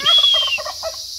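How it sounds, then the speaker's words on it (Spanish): A turkey gobbles once, a quick rattling burst of warbling notes, close and clear with no talking. "aquí está el mero guajolote llevando sol"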